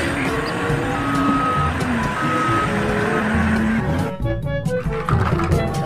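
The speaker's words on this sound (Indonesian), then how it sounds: "kalau yang ini ada truk pasir teman-teman, atau mobil dump truck." Toy dump truck, a sand truck, with a steady reversing beep repeating over a busy mechanical toy hum and background noise, loud and close throughout.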